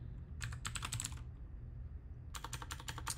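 Keys clatter on a computer keyboard in two quick bursts of typing, a rapid run of clicks, a pause, then another run, close up and alone over a low room hum.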